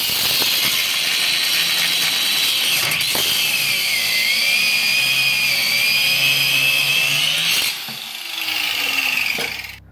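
A loud pneumatic air hammer rattles continuously at a rapid rate, close up, knocking rivet heads off a 1996 Ford F150 strut tower, with a brief drop and change in pitch near the end.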